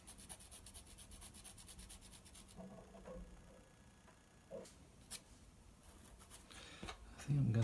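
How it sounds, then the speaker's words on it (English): A pencil sketch on paper being erased around the drawn ear, with soft rapid rubbing strokes in bursts, near and quiet, with a few small taps and pauses. "rub out those sketch lines around the ear."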